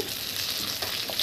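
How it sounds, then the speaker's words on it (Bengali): Tilapia fish sizzling in hot oil in a home kitchen, a brief steady crackling hiss, close and fairly quiet. "সবগুলো মাছ একসঙ্গে ভাজবো না, দুটো করে ভেজে নেব"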